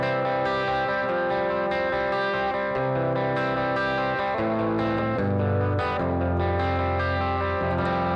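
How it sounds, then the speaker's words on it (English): Electric guitar played through a Headrush pedalboard's Fender amp model in a stereo rig, panned to the left speaker: a steady, sustained run of effected chords and notes with chorus-like shimmer and light grit, loud and alone with no talking. "So now we should be able to hear the Fender coming out of the left speaker."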